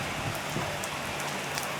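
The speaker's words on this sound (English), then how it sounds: "It's pouring, man, today as well." Heavy rain pours steadily in Malaysia, a constant dense hiss of drops close by, with no voices over it.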